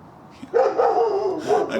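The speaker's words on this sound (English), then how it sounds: "Probably barking at my cats." A dog gives a drawn-out, whiny bark up close, its voice rising and falling before a second yelp.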